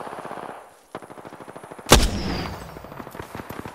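Rapid bursts of automatic gunfire in the battle royale game Apex Legends, a fast rhythmic stream of shots broken by a brief pause and one loud sharp blast near the middle, all close and dominant.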